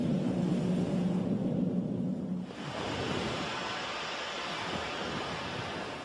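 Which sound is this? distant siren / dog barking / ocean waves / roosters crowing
ocean waves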